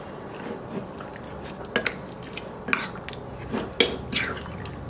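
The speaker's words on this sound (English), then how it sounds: "give it a good mix" A seasoned, creamy marinade is mixed in a bowl with a utensil. Wet squishing and a few sharp clinks against the dish come at irregular moments over a quiet background, with no talking.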